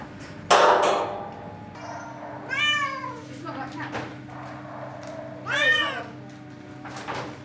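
A Bengal cat meows twice with drawn-out, rising-and-falling cries, close by, over a steady background hum with some clatter at the start.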